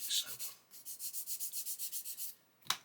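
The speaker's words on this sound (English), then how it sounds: "So I'm going to carry on sanding." Rhythmic back-and-forth sanding strokes on a plastic part of a 1/24 Airfix Spitfire Mk.IXc model kit, about a dozen even rubs in steady tempo, close and fairly quiet, ending with a sharp tap.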